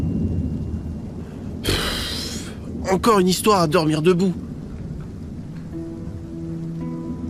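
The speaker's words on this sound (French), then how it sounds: "Malgré l'orage qui ne faiblissait pas" A thunderstorm with steady rain patters throughout, a brief burst of noise breaks in early, and someone speaks over the downpour partway through.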